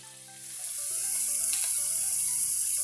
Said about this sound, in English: obviously you can tell I am browning our meat